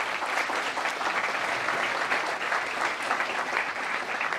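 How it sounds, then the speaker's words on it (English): Steady applause from a crowd, dense clapping holding at an even level throughout with no voices standing out. "Let us again welcome him with a warm round of applause."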